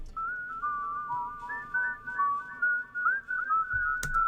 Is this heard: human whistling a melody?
yes